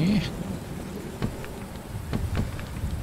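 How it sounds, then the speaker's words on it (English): Rainfall and thunder in the Fallout 4 survival game, a constant patter of rain with a few sharp crackling thunder strikes standing out near the middle and end. "Have we got anywhere nearby that's internal that I can get out of this rain?"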